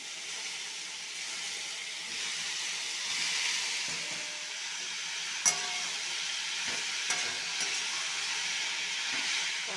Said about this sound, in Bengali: এইবার সেদ্ধ করে রাখা বাঁধাকপি আর আলু দেবো।